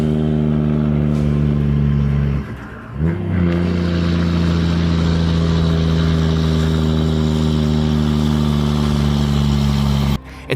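A big Western Star logging truck labors uphill on a steep road, its diesel engine droning loud and steady with a strong low rumble, dipping briefly as it shifts, then pulling hard again.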